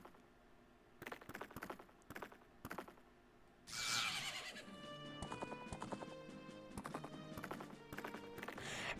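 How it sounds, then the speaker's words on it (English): Epona, Link's horse in the video game Majora's Mask, gallops with rapid rhythmic hoof clip-clops, first in short bursts and then continuously over gravel, joined by a loud rush and game music partway through. "Oh wow, that is literally galloping."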